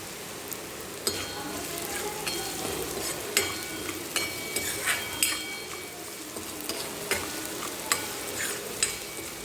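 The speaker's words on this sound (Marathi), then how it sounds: "कांदा चांगला भाजला की आपल्याला ह्याच्यामध्ये थोडं खोबरं भाजून घ्यायचं." Grated coconut roasts in a pan with onion, garlic and ginger, a soft steady sizzle under repeated light scraping and clinks of a spoon stirring against the pan.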